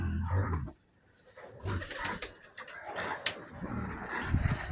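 Pigeons coo softly in low repeated murmurs amid outdoor ambience, with a few brief chirps and faint background noise throughout.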